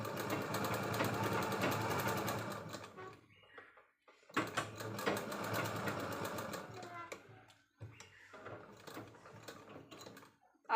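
A sewing machine stitches a blouse sleeve in bursts, a rapid mechanical whirring that runs, stops briefly, then starts again with short pauses, heard close and alone.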